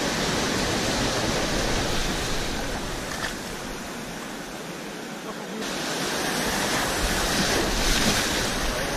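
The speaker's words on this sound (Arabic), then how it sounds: "خليتها تفوت هاد الموجة" Sea waves surge and break on a Saharan shore at Akhfenir, a steady broadband wash of surf with wind across the microphone, briefly easing in the middle before building again.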